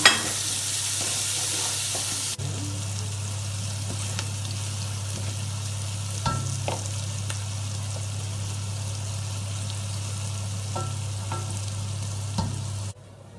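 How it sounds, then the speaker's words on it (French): Onion frying in oil in a saucepan for Catalan fricandó, a steady close sizzle with faint stirring clicks under a constant low hum, running without talk until it cuts off. "Dans la même casserole, on va rôtir l'oignon avec assez d'huile"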